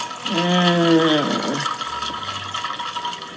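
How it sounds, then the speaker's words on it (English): Vermouth poured into a martini glass, a short bubbling glug of liquid filling the glass for about a second, then quieter trickling and handling noise. "You can pour around to sort of mix in the vermouth."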